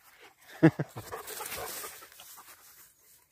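Dogs out on a walk pant and whimper close by, with a couple of sharp bursts near the start and softer breathy sounds after, fading into quiet toward the end.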